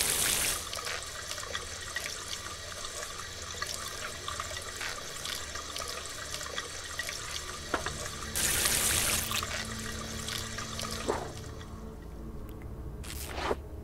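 Water runs from a kitchen tap while a bottle is cleaned in the Silent Nights video game, a steady splashing stream with brief louder gushes, heard alone without talk.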